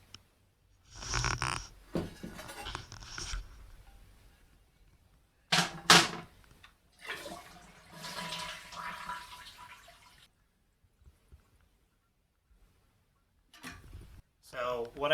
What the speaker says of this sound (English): Next, flush the tank.